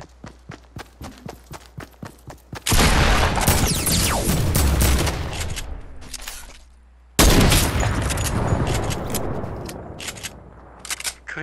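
Gunfire in the video game Fortnite: a rapid series of single shots opens, followed by two long, loud roaring stretches of sustained firing and explosions, close and dominant throughout.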